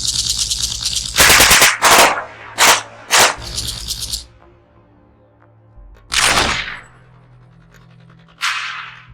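Bursts of machine-gun fire in a dramatic movie scene: loud, rapid volleys close by in the first seconds, then a quieter pause and two more separate bursts, with no talk over them.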